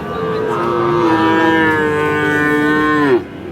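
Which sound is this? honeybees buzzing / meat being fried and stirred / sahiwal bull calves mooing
sahiwal bull calves mooing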